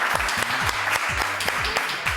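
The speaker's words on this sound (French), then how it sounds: "Applaudissements pour Alexis" Short burst of audience clapping for a contestant on a French TV talent show, with rhythmic claps over a musical beat and low tones underneath.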